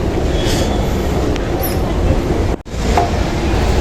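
A train at a railway station near Dakshineswar, a loud, steady, close rumble of rolling carriages with faint wheel squeals, broken by one brief dip near the end.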